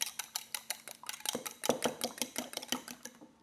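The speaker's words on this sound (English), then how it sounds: "we're going to get a fork and we are going to whisk those eggs up" A fork whisks eggs in a bowl with quick, regular clinking taps against the side, close and crisp, about four strikes per second and growing slightly louder, with no talk.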